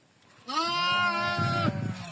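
A sheep gives one long, wavering bleat close by, ending with some rustling and shuffling.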